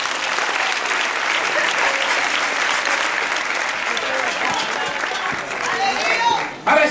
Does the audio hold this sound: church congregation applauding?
yes